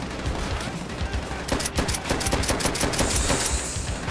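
Rapid bursts of machine-gun and rifle fire in Call of Duty: World at War, loud and close, crackling in quick overlapping volleys that grow denser toward the end.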